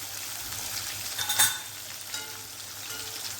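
A tomato frying in a hot pan for Gujarati sukhi bhaji, a steady close sizzle with a brief louder spitting burst partway through.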